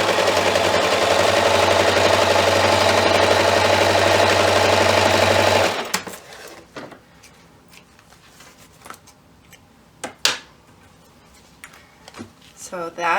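A sewing machine runs in one steady, loud continuous burst, top stitching a pocket for a homemade first aid kit, then stops, leaving quieter handling noises and a few sharp clicks.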